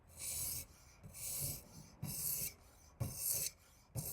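A kitchen knife is drawn across a rough-grit stone on a XARILK sharpening system in slow, even strokes about once a second. Each pass gives a close, gritty rasp, with short pauses between strokes.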